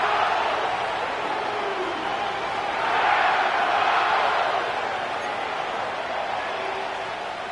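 Stadium crowd roaring at SoFi Stadium in an EA Sports NFL video game, a dense continuous wash of crowd noise that swells midway and then eases slightly.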